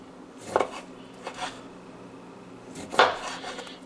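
Knife slicing a citrus fruit on a cutting board: two separate cuts about two and a half seconds apart, each ending in a sharp clack against the board, close and fairly quiet, with no talking.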